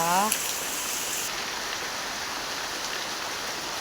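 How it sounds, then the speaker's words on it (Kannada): Heavy rain falling steadily in a dense, even hiss of pouring water, with a brief tone near the start and no voices. "ಎಂಥ ಮಳೆ ಮರ್ರೆ ಸಿಕ್ಕಾಪಟ್ಟೆ ಮಳೆ ಬರ್ತುಂಟು"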